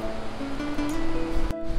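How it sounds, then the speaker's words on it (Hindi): Glacier meltwater gushing at speed out of a mountainside near Skardu, a steady broadband rushing roar, close and continuous, with one brief sharp knock near the end. "वो ग्लेशियर से जो पानी निकल रहा है वो कमाल निकल रहा है। वो चेक करें कितनी स्पीड में पानी आ रहा है पहाड़ के अंदर से"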